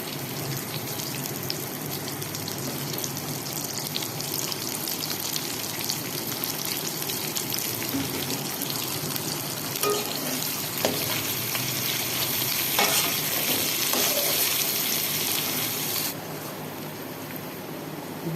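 Onions sizzle steadily in hot oil in a pan, a dense continuous frying hiss with occasional stirring scrapes; the sound drops slightly near the end.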